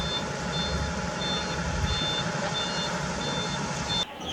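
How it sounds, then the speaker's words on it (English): A very big concrete mixer truck backs up at a construction site, its reversing alarm beeping in a steady repeated rhythm over a loud, continuous diesel engine rumble, close by with no talking. "Wow, this is very big size concrete mixer truck."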